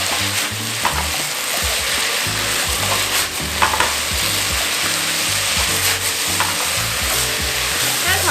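Potatoes stir-fried with soy sauce, pepper and mushroom water, heard as a loud, close, continuous sizzle with repeated rhythmic scraping of a spatula against the pan and no talk.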